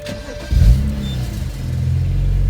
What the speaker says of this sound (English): whenever I start the car,